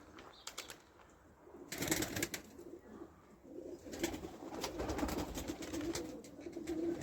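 Domestic tumbler pigeons in a loft give a steady low cooing murmur with a few bursts of wing flapping, close and moderately loud throughout.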